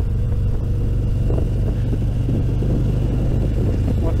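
Steady close-up motorcycle engine drone while riding on a road toward Dortmund, a constant low rumble with slight throttle variation and no speech.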